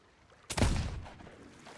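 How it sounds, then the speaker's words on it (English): A single sharp gunshot fired at a ship's cannon in the pirate game Sea of Thieves, sounding loud and close with a booming low body that decays over about a second amid faint background ambience. "I took a shot hoping that maybe it would, like, suppress the cannon or something"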